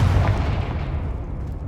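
In the Hogwarts Legacy video game, a Confringo fire spell detonates as one loud, deep explosive boom that rumbles away over a second and a half.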